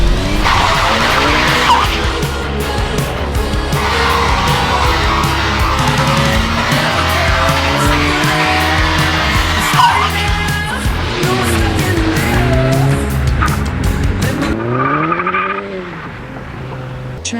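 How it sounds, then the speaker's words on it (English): Volkswagen Golf R and GTI launching on a wet surface with traction control off, wheels spinning: loud, continuous engine roar and tire squeal with shifting pitch sweeps, close by, dropping away near the end. "Launch test, in the wet, traction disengaged."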